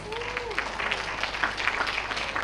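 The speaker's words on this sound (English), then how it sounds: "So please give yourself a round of applause." Audience applause at a preparatory school graduation exercise, steady moderate clapping from a seated crowd in a large hall, with a faint voice at the start.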